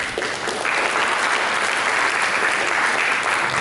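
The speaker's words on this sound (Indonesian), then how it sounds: "kita berikan tepuk tangan." A church congregation claps loudly and continuously after a sermon, a dense, even wash of applause that holds steady for a few seconds.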